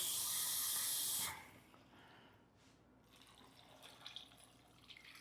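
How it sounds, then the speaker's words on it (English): Water rushes loudly from a tap into a pot packed with chicken and other food for meal prep, a steady hiss for just over a second before cutting off, leaving faint trickles and low rustling. "I'm gonna just fill it to the top with water."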